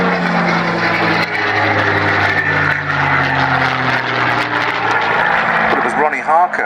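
A North American P-51D Mustang with a Rolls-Royce Merlin engine makes a display pass at an air show, its loud sustained engine roar shifting in pitch as it passes, while a commentator speaks over it.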